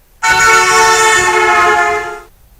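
A loud, sustained car horn blares for about two seconds, its tone sliding from higher to lower pitch as it passes, a Doppler shift, then cuts off.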